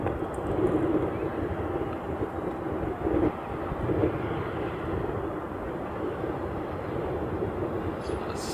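A Boeing 717 airliner taxis out toward the reef runway at Honolulu, its engines a steady, loud broadband roar and rumble that holds evenly from start to finish with no voices.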